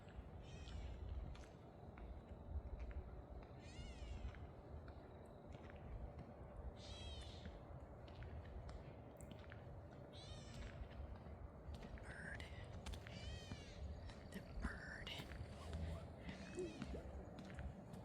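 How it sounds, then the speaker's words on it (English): A cat meows several times along an outdoor nature trail, with bird calls and a steady outdoor background throughout; footsteps and brief speech-like sounds come and go. "The cat."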